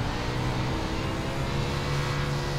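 A steady, loud engine drone holds at a constant pitch throughout, a wingless USAC sprint car motor in iRacing running without talk.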